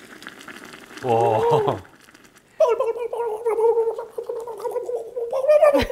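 Soup boils in a pot with a steady, busy bubbling that fills most of the span, preceded by a short burst of louder sound and a single exclaimed word.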